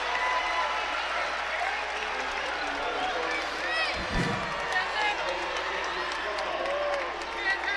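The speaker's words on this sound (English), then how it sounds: "this crowd is really getting into it" A college basketball arena crowd at a Northeastern Huskies versus William & Mary game roars and applauds in a loud, steady wash of noise, with a brief low thump near the middle.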